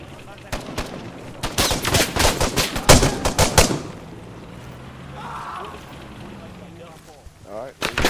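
Gunfire rings out in the military shooter Arma 3, a cluster of sharp close shots and short bursts in the first half, then quieter ambience with a distant crackle and brief voices near the end.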